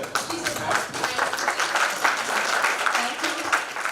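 An audience at an HR conclave in Udaipur applauds steadily with dense, sustained clapping, near and fairly loud, while some voices murmur underneath.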